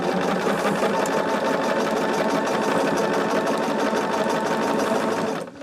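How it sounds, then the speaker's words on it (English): A sewing machine stitches a quilt late at night, running in a steady, continuous whir with a fast rhythmic clatter, close and loud, stopping abruptly at the end. "I know I'm sewing right now"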